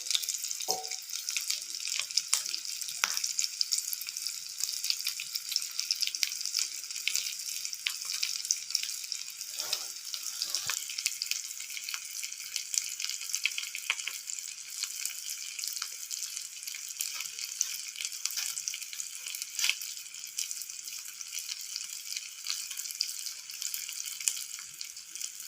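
Mangalore-style fish fries on a tawa over a medium flame, giving a steady, close hiss and sizzle throughout with occasional faint crackles and pops.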